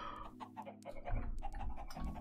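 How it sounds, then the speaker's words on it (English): Chickens clucking in modded Minecraft 1.10.2, a busy cluster of repeated game clucks and squawks that grows louder and denser in the second half, with no talk. "Oh, the chickens are gonna drive me nuts."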